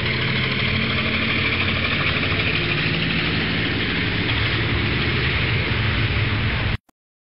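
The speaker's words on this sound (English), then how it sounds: "Helicopter." A loud, steady helicopter drone with whirring engine noise runs continuously, then cuts off abruptly at the end.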